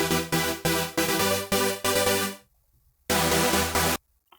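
Layered Supersaw chords using the SaberZ Chords 1 preset in Silent, bright and buzzy, hit in short rhythmic stabs that stop for a moment of near silence before a final few chords; no talking.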